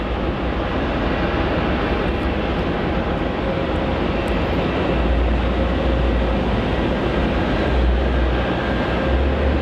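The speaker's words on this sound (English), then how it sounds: "we also have JQ64 arriving in from Ho Chi Minh City onto runway 16" JQ64, an airliner arriving from Ho Chi Minh City, comes in to land on runway 16 at Melbourne Airport, a steady loud roar of jet engine noise with low rumble, continuous throughout and building slightly toward the end.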